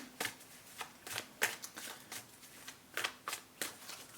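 Repeated crisp riffling bursts of tarot cards being shuffled, about a dozen quick flutters at an uneven rhythm, close and fairly quiet.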